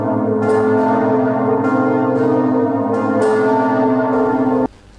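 Church bells ringing loudly and steadily in a village, with rich overlapping tones and repeated strikes that stop abruptly near the end.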